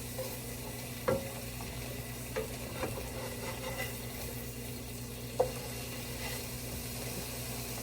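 Burger patty and peppers sizzling in a hot pan, a steady frying hiss with occasional sharp pops and utensil stirs, close and continuous with no talking.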